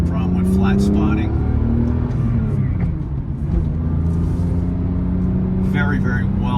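A 2003 BMW M3 being driven gives a steady engine and road rumble throughout, sitting under someone talking almost continuously.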